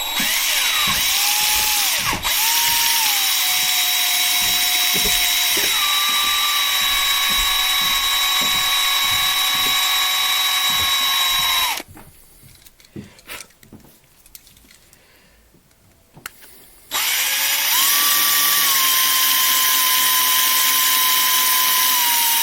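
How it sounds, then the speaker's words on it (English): A DeWalt 36-volt cordless drill bores out the rivets of 1/64 NASCAR diecast cars, a steady loud whine with pitch shifts and brief stalls, dropping to a quiet pause midway before the motor spins up again. "when I'm drilling these out and taking them apart"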